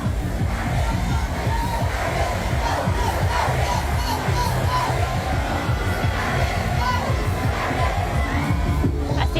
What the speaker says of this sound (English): And look how quick the crowd catch on.